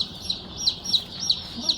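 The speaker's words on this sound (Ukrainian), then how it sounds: "Бачите, курчатка вже готові." Newly hatched chicks peeping inside a freshly opened poultry hatcher, a steady chorus of high, repeated peeps with brighter calls standing out about every half second, fairly close, over low room noise.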